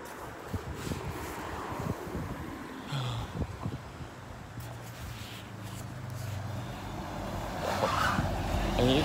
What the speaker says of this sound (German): LKW.